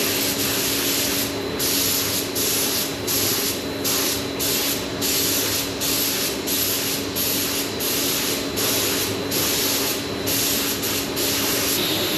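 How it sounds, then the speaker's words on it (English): A spray gun lays a primer coat onto a car panel, giving a continuous loud hiss that pulses slightly with each pass and runs steadily with no talking. "So we're going to whack on with the primer."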